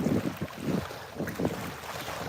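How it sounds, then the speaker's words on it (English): Wind gusting off a river buffets the microphone in a steady, loud rumbling rush with pulsing swells, with no voices. "It's also windy off the river,"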